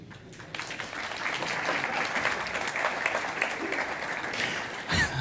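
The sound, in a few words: audience applause at a conference talk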